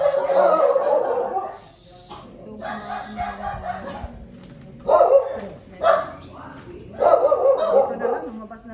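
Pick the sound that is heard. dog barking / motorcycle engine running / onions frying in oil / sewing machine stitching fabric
dog barking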